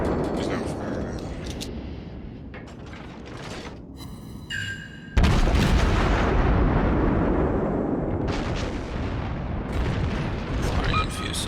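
Warship guns firing in the World of Warships naval game, tier 9 and 10 battles: heavy booming salvos and rumbling blasts, one big near explosion partway through, layered over continuous game noise.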